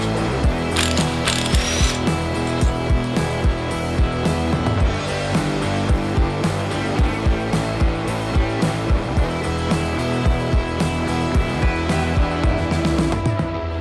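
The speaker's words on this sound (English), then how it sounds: "So now we take the 4 top riser bolts off and then get these bars off." A ratchet wrench works the top riser bolts free on a 1996-2017 Harley Davidson Dyna, giving loud, close, rapid pawl clicking in repeated strokes with a steady rhythm of short pauses between turns.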